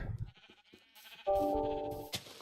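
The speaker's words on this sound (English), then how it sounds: "So we have the beginnings of sheep." A Minecraft sheep gives one wavering, nasal bleat lasting under a second, clear and close, after a few soft scuffing sounds and with no talking.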